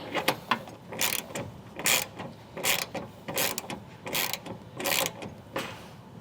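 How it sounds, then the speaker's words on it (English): A 13mm ratchet wrench tightens the bolts on a Front Runner Slimline II interior cargo tray, giving repeated bursts of quick, close ratcheting clicks in an uneven rhythm, with no voices. "then you can tighten down those bolts with your 13mm wrench"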